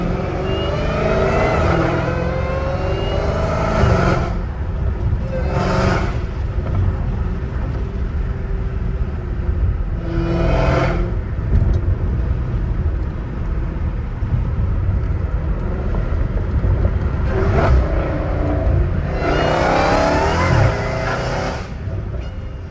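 A Dodge Challenger Hellcat Redeye with 850 hp revs loudly and close by, its engine rumble rising in repeated throttle bursts over a steady low drone, with wind and road noise throughout.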